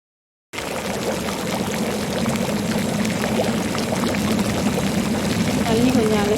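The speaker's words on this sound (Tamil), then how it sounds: "தண்ணி கொஞ்சம் அலசி ஊற்றிக்கலாம்." Water is poured into a simmering shark fish curry with ground coconut paste, starting abruptly and then running as a steady, continuous pour close by.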